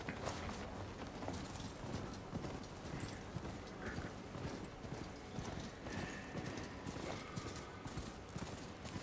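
A robot horse's hoofbeats in the video game Horizon Forbidden West clip-clop steadily at a walking pace, continuous and fairly faint, with a few clanks mixed in.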